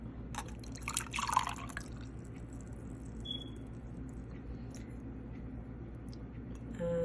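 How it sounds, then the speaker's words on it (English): Thin liquid drips and trickles softly as raw vegan yogurt drains, with a brief louder splash near the start and quiet settling drips afterward. "I'm going to drain it."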